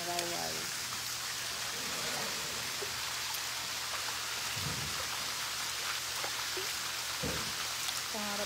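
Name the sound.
light rain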